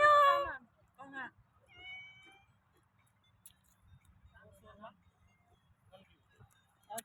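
A cat meows in short harmonic calls near the start, with sparse faint noises and quiet voices following.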